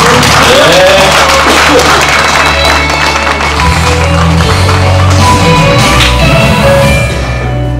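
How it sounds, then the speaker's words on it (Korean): An audience at a book launch event in Changwon applauds: loud, sustained clapping from a full room with some crowd noise mixed in, fading slightly at the end. "먼저 박수로 보내드리고"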